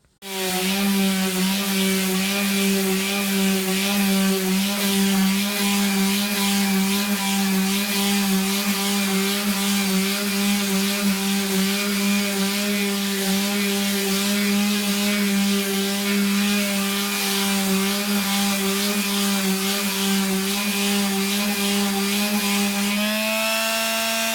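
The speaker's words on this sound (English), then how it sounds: "I will be sanding off the edges, the sides and the top and bottom" Power sander working across a wooden bench top being turned into chopping boards, a loud continuous motor whine with steady droning tone and gritty abrasive hiss, running unbroken for the whole stretch with a slight pitch shift at the end.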